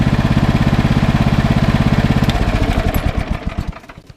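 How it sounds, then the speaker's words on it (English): A 2018 Stiga Tornado 2098 H 12 hp riding lawn mower engine idles at low RPM, a loud, steady, close putter that loosens and becomes more uneven near the end. "you need to keep the engine running on low RPMs until it cools down a little bit"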